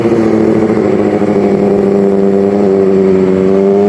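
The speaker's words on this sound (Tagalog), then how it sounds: "Big bike yun guys, big bike." A big bike motorcycle passes close by on a road, its engine droning loudly and steadily with rising and falling pitch as it goes past.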